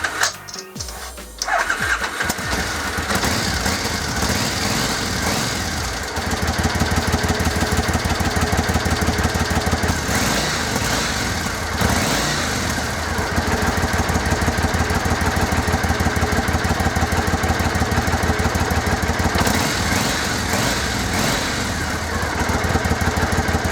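A 2006 Triumph America motorcycle engine cranks and catches after a brief start, then runs at a steady, loud idle with a throbbing rhythm in a garage, settling briefly before continuing alone.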